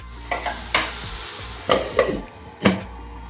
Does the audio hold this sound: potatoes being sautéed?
yes